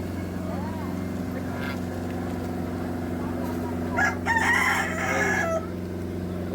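A rooster crows once from fairly close, a strained call lasting over a second, over a constant low engine-like hum, while other fowl stay quiet in the background.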